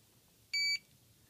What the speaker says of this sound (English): We hear the beep. That's bind mode.